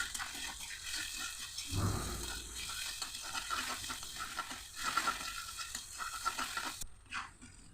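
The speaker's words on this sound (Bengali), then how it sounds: "পেঁয়াজটা লাল করে ভেজে নিচ্ছি।" Onion browning in a pan, a soft, low frying hiss with occasional stirring scrapes and clinks, the sizzle dropping away near the end.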